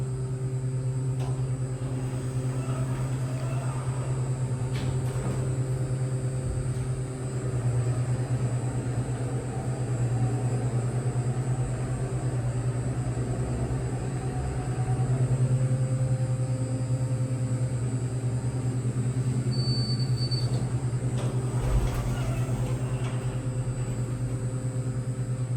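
A Kone Series 220 hydraulic elevator motor runs at a Dillard's store in Houston's Memorial City Mall, a steady loud hum with a strong low drone and a constant high whine lasting throughout, with no talking.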